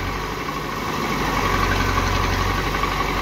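A CAT loader engine idles at a residential construction site where earth is being loaded into tractors, a steady low rumble with constant vibration, loud and close with no talk.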